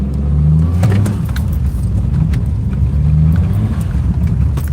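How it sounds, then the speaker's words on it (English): An all-wheel drive turbocharged car drives on a thin layer of snow, its loud steady engine rumble carrying a faint airy turbo whoosh, with light rattles over the top; close and continuous, with no speech. "you can hear the turbo whooshing on this thing"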